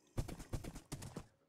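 A horse's hooves in Minecraft strike four times in an even, clip-clopping rhythm, each hit sharp and close, with nothing else around them.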